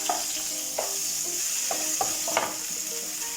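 Small onions sauté in oil in a pan, with a continuous sizzle broken by regular, crisp spatula stirs and scrapes up close.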